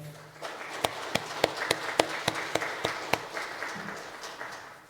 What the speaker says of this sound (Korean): 박수로 좀 격려해 주시기 바랍니다